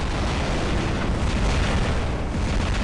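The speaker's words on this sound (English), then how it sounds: "he's going to fire his hydras here. It's just going to hit the building." Hydra missiles striking a building in War Robots, a dense, continuous roar of loud overlapping blasts and rumbling impacts that fill the whole stretch with no pause.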